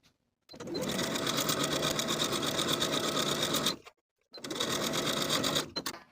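A sewing machine stitches a skirt's waistband seam in two runs, a long steady whirring burst, a brief pause, then a shorter one, close and clear with no talk.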